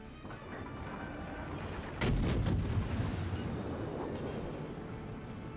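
Naval guns firing in World of Warships: a single heavy boom hits partway through and rumbles off into a long low tail over a quiet background hum.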